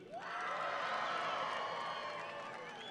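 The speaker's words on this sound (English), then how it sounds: "Ladies and gentlemen, we need a huge round of applause for the one and only Anthony Mackie." Large crowd at a London comic convention applauding and cheering for actor Anthony Mackie, a sustained, loud wash of clapping and whoops that swells quickly and holds steady throughout.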